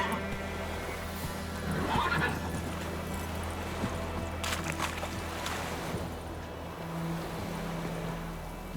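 Roach, the horse in The Witcher 3, lets out a loud whinny amid hoof clip-clops and a steady outdoor game ambience, with no talk.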